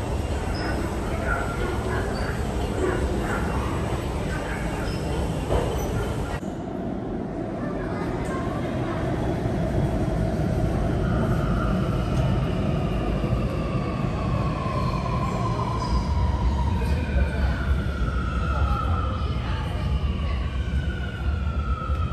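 Chengdu subway train running through a tunnel, a loud continuous rumble and rail roar with rising and falling whine tones throughout, steady and close.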